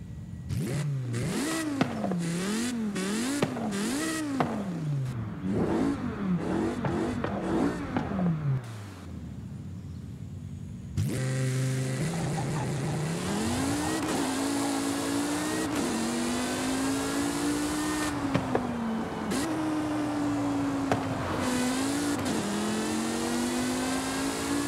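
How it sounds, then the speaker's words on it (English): A 2009 BMW M5 with a V10 engine revs hard in Forza Horizon 5, climbing and falling in repeated sharp bursts before settling into a long, loud, high-pitched wail with gear shifts, close and alone. "our next car is the BMW M5 from 2009. Now this one's special because this one has a V10. A BMW V10."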